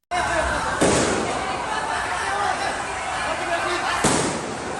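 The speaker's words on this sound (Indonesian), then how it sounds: "ada tembakan-tembakan gas air mata dari petugas untuk membubarkan massa" Two sharp, loud bangs of police tear gas launchers ring out over a constant roar of protest crowd noise and commotion in Jakarta, with voices shouting in the background.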